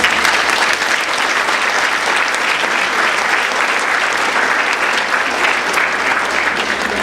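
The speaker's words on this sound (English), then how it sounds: "give yourselves a round of applause for being here tonight" Dense, steady applause from a large audience at a middle school program of studies evening for parents and teachers, sustained and close, filling the room without a break.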